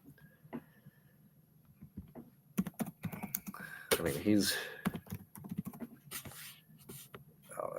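Someone types quickly on a computer keyboard, with bursts of clacking keys that start slowly, then thicken into rapid runs. Someone talks over part of the typing.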